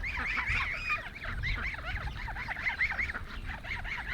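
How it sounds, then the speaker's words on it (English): Geese honk together with Welsh Harlequin and Indian runner ducks, a dense, continuous chorus of overlapping nasal calls close by, with no talk. "You got your geeses together, your adult Welsh Harlequin ducks together, and then we have our Indian runners together"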